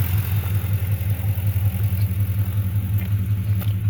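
A 4.6 V8 engine idling after its lower intake was replaced, a steady low rumble with an even pulsing throb, close and continuous, with no talking.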